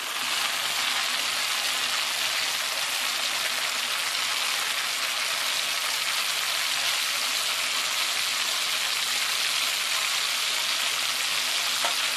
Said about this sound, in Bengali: এখন এর ভিতরে আমি মাছগুলো দিয়ে দিব, তারপরে কষাবো।